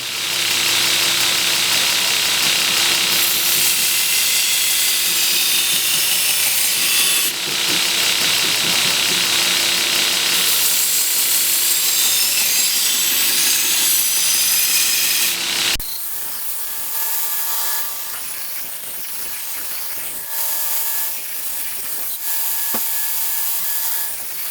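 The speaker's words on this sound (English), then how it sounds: "now we're going to sharpen it. This is a 400 grit belt." A cleaver made from a 100-year-old saw blade is sharpened against a 400 grit sanding belt. A loud, steady, hissing grind runs for about sixteen seconds, then drops to a quieter whirring of the running belt.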